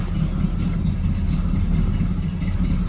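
A 1968 Oldsmobile Cutlass 442 tribute convertible with a tuned carburetor idles smoothly, its exhaust giving a steady low rumble close by, with no talking.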